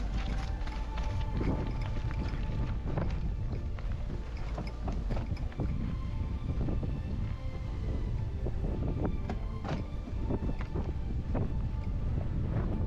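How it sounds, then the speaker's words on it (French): Strong wind before a storm buffeting the microphone on a mountain-bike ride in autumn, a constant loud roar with gusty bursts and rattling thumps throughout. "Le vent redouble d'intensité."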